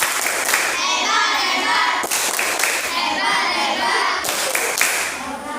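A fifth-grade classroom of children claps out a patterned cheer, with crisp rhythmic hand claps in bursts separated by short pauses and loud, close sound, mixed with some children's voices.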